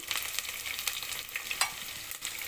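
Green chilies and ginger paste fry in oil in a pan, giving a close, steady hiss and sizzle with a few soft stirring scrapes and no talk.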